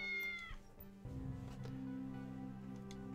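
A cat meows in a side-scrolling detective adventure game, a couple of clear meows over a low, steady ambient hum.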